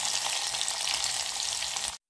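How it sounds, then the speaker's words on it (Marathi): Onion frying in hot oil with mustard seeds, cumin and spices for a Maharashtrian aamti, a loud steady sizzle that runs alone for about two seconds, then cuts off abruptly. "कांदा छान परतून घेतलेला आहे।"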